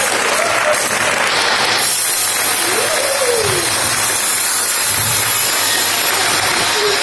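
An audience applauds a street show in Vienna's Brunnen Passage with loud, steady clapping that holds for the whole stretch, and a few faint whistles rise over the crowd.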